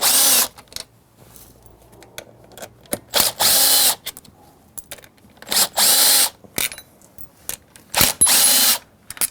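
A power tool backs out 8 mm bolts on a Honda Ruckus scooter, giving loud, close bursts of high whirring and ratcheting with short quiet gaps and small metallic handling clicks between them.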